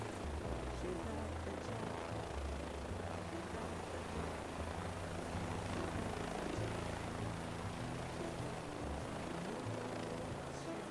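Rescue helicopter landing in a field near a group with an injured person, a steady loud rotor and engine roar filling the whole stretch.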